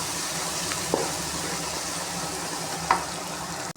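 Ginger garlic paste sizzles steadily in a hot pan, a soft continuous crackle broken by a couple of brief stirring scrapes.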